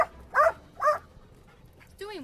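A dog gives two short whimpering yelps in a row, fairly close, followed by a quiet gap and then a higher whining cry at the end, with no speech over it.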